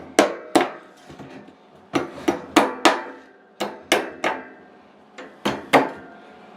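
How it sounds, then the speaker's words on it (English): Sharp metallic hammer strikes ring out in uneven bursts, a dozen or so blows close by, some in quick pairs, bending over protruding screw tips on a homemade goat hay manger, with no talking. "on the back side, I'm just taking a hammer"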